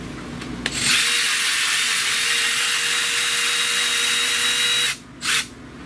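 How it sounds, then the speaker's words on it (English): A power tool whirs steadily for about four seconds while backing a stud out near the alternator of a 2.4L Pontiac G6, then stops and gives one short final burst. "I'm going to turn this stud out of here."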